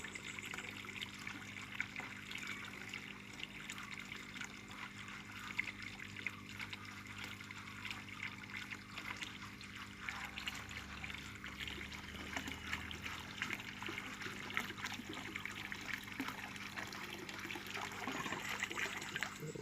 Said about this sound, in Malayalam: വെള്ളം പാസ് ചെയ്തതിന് ശേഷം എയർ മുകളിലേക്ക് വലിച്ച് ഇത് സൈഫൺ കട്ടാവും.